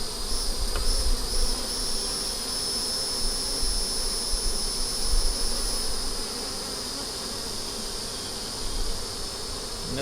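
Honeybees hum in a dense, continuous drone from an opened hive full of pollen and brood, loud and close, with a steady high whine layered over the buzzing throughout.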